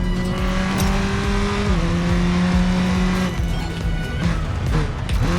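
Race car in the Racing Master racing game braking into a drift, with a loud steady engine drone, shifting pitch, and tire squeal over roughly five seconds.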